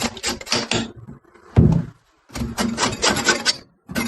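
An uncapping fork scraping a wooden beehive frame clean, in short rasping bursts of wood scraping with brief pauses between, close and fairly loud, with one sharper knock partway through.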